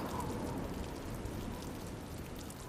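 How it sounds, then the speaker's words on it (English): Steady rain pours outside an open classroom window on a chilly November day in the video game Witch on the Holy Night, a soft continuous patter with no voices. "the soft sounds of the rain doubled in volume"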